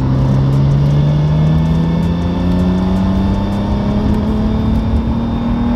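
A BMW N54 engine pulls hard at full throttle in fourth gear, a loud, rising drone that climbs steadily in pitch under acceleration, with a misfire present and no talking.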